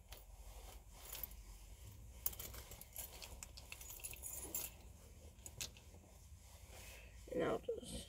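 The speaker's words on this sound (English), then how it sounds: "Normally, I can go ahead and put my keys in my pocket." A ring of keys jingles close by in several bright, clinking bursts as it is slipped into a pocket, with a short louder rustle near the end.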